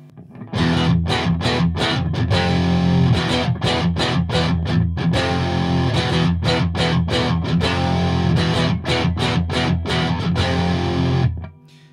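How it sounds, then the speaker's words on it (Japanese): Music Man John Petrucci electric guitar plays a riff of chugging, palm-muted chords with heavy distortion blended with the piezo acoustic pickup, loud and close with rhythmic stops, no talking. "こういった歪みのディストーションがすごく深くかかっている音にプラスこうアコースティックの音もミックスできてしまうと"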